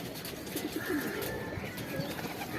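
Shahjahanpuri pigeons courting on a rooftop coo softly and repeatedly at close range, low murmuring calls over light background noise.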